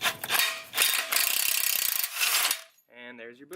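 A ratchet with a 14 mm socket works on a rear trailing arm bushing of a BMW E30/E36/E46, giving a loud rapid clicking run of turns up close, then a brief pause and a few slower clicks.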